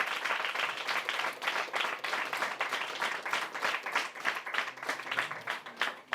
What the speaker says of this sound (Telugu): ఒకసారి క్లాప్స్ కొడదాం ఫర్ జీసస్ క్రైస్ట్